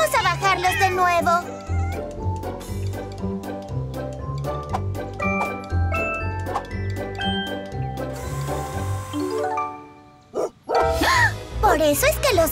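A cartoon dog barks while chasing cats up a tree, its yaps popping out over a bouncy animated music score, with a brief lull near the end before the music picks back up.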